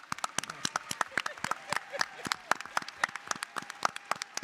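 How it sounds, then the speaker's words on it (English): A room of attendees at a Black Caucus gathering during the 2024 Democratic National Convention claps, with dense, irregular individual claps close by forming a lively round of applause with no talking. "Give yourself a round of applause."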